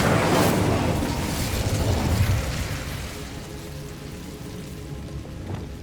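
Incendio fire spell cast in Hogwarts Legacy: a single loud crackling, rushing burst of flame that roars at first then gradually fades into a low lingering rumble.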